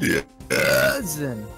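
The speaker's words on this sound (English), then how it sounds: "but there's a burp somewhere in there" A video game character lets out a loud, drawn-out burp in the middle of a spoken voice line, with the voice and the belch running together in one short burst.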